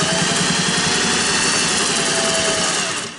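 A Singer 401A Slant-O-Matic sewing machine runs steadily through faux leather vinyl, a continuous fast mechanical whirr and needle chatter close by, slowing at the very end.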